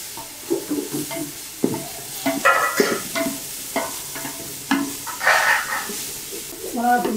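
Garlic, ginger, cinnamon powder and ground onion frying in hot oil, with a steady close sizzle broken by repeated scraping stirs of a spoon against the pan.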